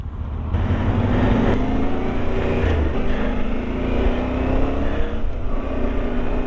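Yamaha Tenere T7 adventure motorcycle pulling away, a steady rising engine drone with wind rush, fairly quiet and continuous from a riding position.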